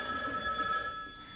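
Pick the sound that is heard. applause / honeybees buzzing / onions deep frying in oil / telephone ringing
telephone ringing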